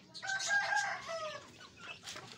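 A Mairi-breed Aseel rooster crows nearby, one loud drawn-out call, with chickens clucking faintly around it.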